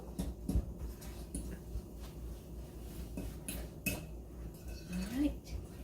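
Fork scraping and clinking against a bowl while noodle dough made with milk is mixed, with irregular close taps and scrapes and people talking in the background.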